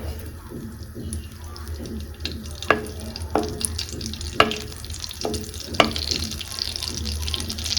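Butter cube melting in a pan for egg rice, a steady close sizzle and bubbling with occasional sharp clicks and taps of a utensil against the pan.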